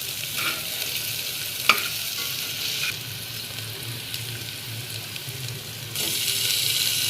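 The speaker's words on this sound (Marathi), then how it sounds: "आता शिमला मिरची टाकायची आणि पुन्हा सगळं मिक्स करायचं." Capsicum stirring and frying in a pan while making pasta, a steady close sizzle with soft scraping stir sounds and a brief clank, continuous throughout without talk.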